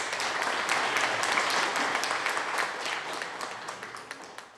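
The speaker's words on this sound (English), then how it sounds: "another round of applause?" A gathered audience at a counseling-center benefit event gives a round of applause, dense clapping that holds steady and then thins into scattered claps.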